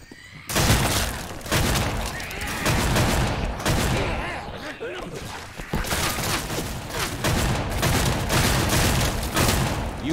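Left 4 Dead 2 gunfire rattles in dense, continuous bursts of rapid shots, loud and close, with a short lull midway before the firing picks up again.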